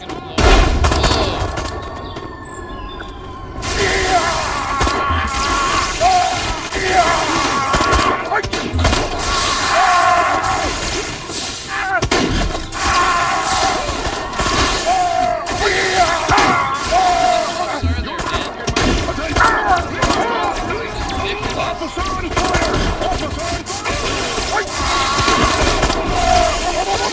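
Explosive blasts and heavy gunfire-like bursts from the video game Destroy All Humans, a loud dense barrage running throughout with thumps, over which people talk excitedly.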